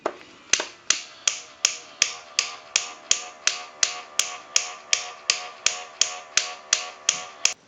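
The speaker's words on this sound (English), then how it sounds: "I want to go ahead and show you what the lamp is doing, and I'll turn the unit on, and we'll push the button" The mechanism of a Disney animated talking Goofy lamp, with suspected servo, cam and gear trouble, runs close by and gives a sharp, even click about every half second, roughly fifteen times in a row.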